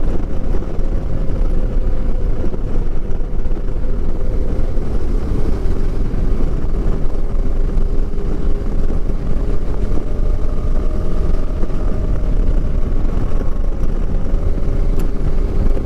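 KTM 390 Adventure motorcycle cruising on a highway, a loud steady engine drone mixed with heavy wind buffeting, continuous and unchanging with a faint engine tone running underneath.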